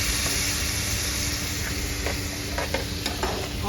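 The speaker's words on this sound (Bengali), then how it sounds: "মশলাটা ভালো করে কষায় নিতে হবে।" Spice paste for a Bengali prawn malai curry sautéing in a pan, a steady broadband sizzle with a few scraping stir strokes near the end, close and continuous with no talking.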